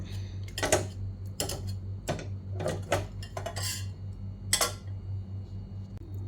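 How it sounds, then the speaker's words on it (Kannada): Cooked brinjal is mashed into a paste in a bowl. Irregular, sharp clinks and taps of a utensil striking the bowl sound close by over a low steady hum, with no talking. "ಬೆಂದಿರೋ ಅಂಥ ಬದನೆಕಾಯಿನ ಚೆನ್ನಾಗೆ ಸ್ಮ್ಯಾಶ್ ಮಾಡ್ಕೊಳ್ಬೇಕು"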